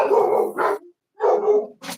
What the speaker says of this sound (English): the dogs actually love Rika. That's why they're so excited